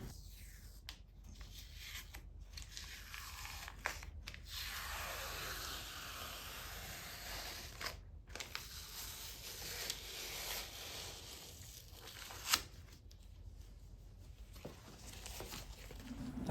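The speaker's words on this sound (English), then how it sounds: "Now it's time to remove the tape for the artwork reveal." Tape peels off resin artwork on a walnut base in long, tearing rips with brief pauses between pulls, crisp and close, no voices.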